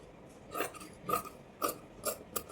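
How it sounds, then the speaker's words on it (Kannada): Scissors cutting blouse fabric along chalk markings, a series of about five evenly spaced crisp snips, close and fairly quiet, with no talking. "ಈಗ ನಾನು ಮಾರ್ಕಿಂಗ್ ಪ್ರಕಾರ ಕಟ್ ಮಾಡ್ಕೊಳ್ತೀನಿ."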